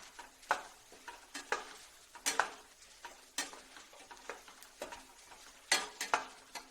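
Spices frying in oil for avalakki chooda, with light crackles and sharp ticking pops scattered irregularly across the clip, close and fairly quiet, with occasional utensil clicks.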